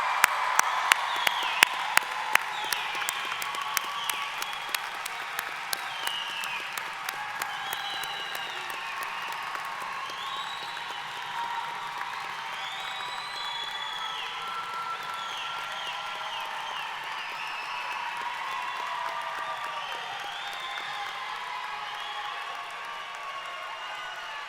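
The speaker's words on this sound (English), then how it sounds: "why don't we have a round of applause for all of our wonderful graduates?" Sustained round of applause for graduates at a university commencement ceremony, a large crowd clapping in a wide, reverberant hall, with a few sharp claps up front early on and faint cheering woven through.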